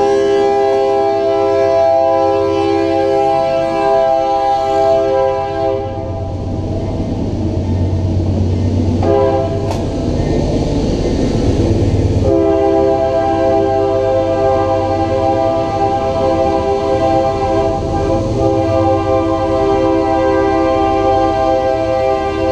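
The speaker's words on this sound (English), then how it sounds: "Now the trains pass by." Trains passing an urban garden, with a deep rolling rumble and long steady horn-like tones that fade briefly and then return, loud and continuous, with no talk.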